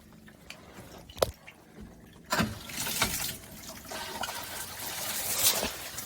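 Water running from an RV shower head during winterizing, irregular splashing and trickling that grows steadier and fuller after a few seconds, with clunks and handling noises, close by and moderately loud, no voices.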